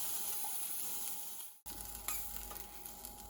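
Corn kernels roasting in a skillet give off a steady close sizzle and crackle, broken by a brief pause and a few scraping stir sounds, with no one talking.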